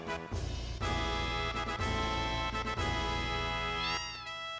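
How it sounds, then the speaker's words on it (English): Cats meowing in Final Fantasy VII, loud and close, a run of drawn-out, tonal mews that overlap one another with a brief rising cry near the end, with no talk over them. "And of course the best stuff of all, kitty cats."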